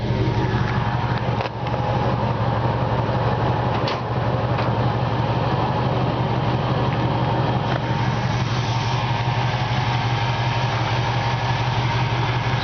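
A 1951 Chevrolet 3100 shop truck's Chevy 350 V8 with shorty headers idles steadily, a low, even rumble that stays constant and close throughout with no talking over it.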